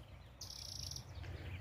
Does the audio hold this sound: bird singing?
yes